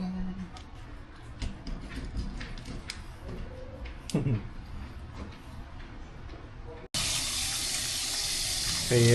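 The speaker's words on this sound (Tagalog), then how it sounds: "Hugasan natin na mabuti para matanggal yung lansa." Tap water runs into a sink while fish is washed underneath, a faint trickle with small clinks and handling noises, then a loud steady gush of water in the last couple of seconds.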